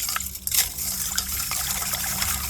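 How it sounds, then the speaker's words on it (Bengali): Water gushes and splashes into a pot being filled to rinse silver jewellery, a close, continuous pour with brief splashy surges and no talking. "পাত্রের মধ্যে এবারে জল নিয়ে নেব।"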